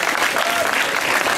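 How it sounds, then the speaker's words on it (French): Audience applauding loudly at an elimination game show, a brief, dense burst of clapping at steady loudness. "On applaudit très fort, en tout cas."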